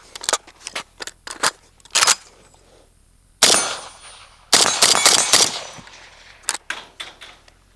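A suppressed rifle fires 5.56 rounds fed from a Bulgarian RPK magazine outdoors: a few single shots, then two longer bursts of rapid fire with pauses between, loud and close, followed by a handful of trailing single shots.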